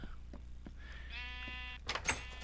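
A sheep in a blocky sandbox game gives a short, clear bleat with a wavering tone, framed by soft clicks and a couple of sharper taps near the end.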